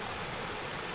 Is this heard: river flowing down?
yes